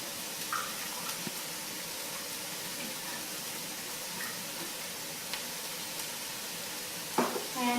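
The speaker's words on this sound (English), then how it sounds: "Now our cream sauce is bubbling" A cream sauce with French onion soup mix bubbles in a pan, giving a steady soft hiss with faint ticking pops throughout, close and fairly quiet, ending with a slightly louder clatter.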